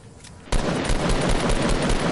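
Rapid, loud gunfire from a video game shootout that starts abruptly after a quiet half second and holds as a dense, continuous stream of shots, with no one talking.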